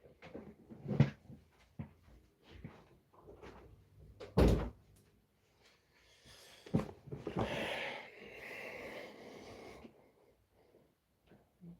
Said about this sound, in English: so excuse me as I close the door so she won't disturb us that much